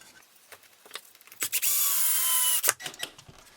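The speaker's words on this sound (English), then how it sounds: "Once you get these screws down, you want to just bury that head just a little bit so that there's nothing sticking out." A power drill drives screws into a wooden French cleat for a TV wall mount, in one loud whirring burst of about a second, with scattered knocks and handling clicks before and after.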